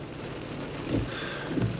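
Rain falling outside a parked vehicle during a lunch stop, a steady soft patter with a couple of low thumps, heard from inside.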